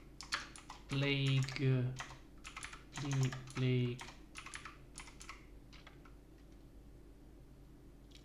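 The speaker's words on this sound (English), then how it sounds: "Let's type it in." Computer keyboard typed on in short bursts of clicks at a desk, with a person talking over and between the keystrokes.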